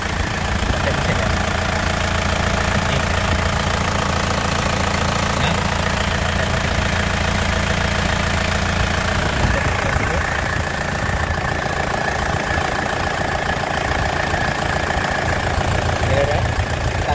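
A 2004 Isuzu Panther LS diesel idles steadily, a continuous low rumbling chug with a faint knocking texture heard up close for the whole stretch, with a voice speaking over it at times.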